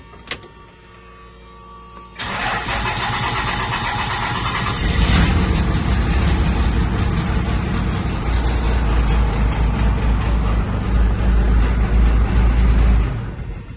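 A first-generation truck engine cranks briefly with a starter whirr, then catches and runs at a loud, steady, rough roar for the rest of the moment, with no talking.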